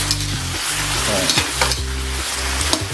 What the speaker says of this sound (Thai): น้ำมันหอยใส่ลงไปเลย